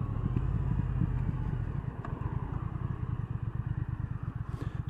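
A 2019 Triumph Thruxton R 1200 motorcycle idling nearby, a low steady engine rumble that turns into an uneven, pulsing throb toward the end.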